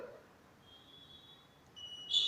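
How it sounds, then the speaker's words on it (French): RFID door access system sounding a high electronic alarm tone for a blocked card; a thin steady beep runs faintly, then a brighter, louder tone bursts in at the end, with no talk. "le système déclenche une alarme pour signaler que cette carte n'est pas autorisée"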